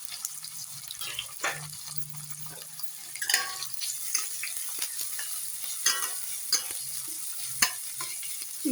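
Sliced onions drop into hot oil and fry with a close, steady crackling sizzle, broken by scraping stirs and clinks of a spoon against the pan.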